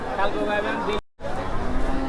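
Two young bulls among cattle at a busy Bangladeshi livestock market, with a close, drawn-out moo cut by a brief gap, followed by crowd murmur and shuffling.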